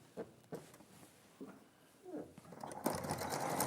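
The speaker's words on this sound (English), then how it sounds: "I'll choose a marking on the sewing machine plate just to follow for that." Domestic sewing machine stitching a channel in fabric, faint whirring runs building toward the end, under soft background noise with brief bits of talk.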